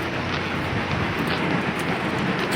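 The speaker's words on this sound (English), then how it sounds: "It's really windy, it's really loud, and it's pretty scary." Strong storm wind roars steadily on a balcony at night, a dense, loud rushing noise with no breaks, heard alone without voices.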